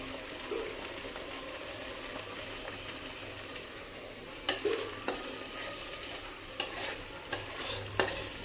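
A spoon stirs sugar into coriander leaf paste in a pan over a faint steady sizzle, with sharper scrapes and knocks arriving in a loose rhythm during the second half.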